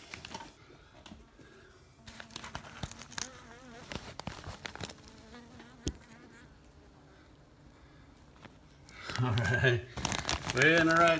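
Honey bees buzzing inside a house ceiling during a rescue, a faint, uneven hum beneath handling noises, rustling and scattered clatter, rising to a louder, busier buzz near the end.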